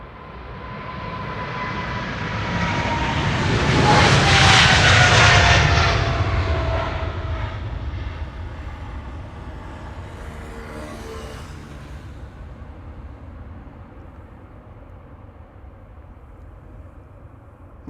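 A Boeing 777-300 jet airliner at Amsterdam Schiphol, registration PH-BVI, passes with a loud engine roar that swells to a peak, then fades slowly into a long distant rumble.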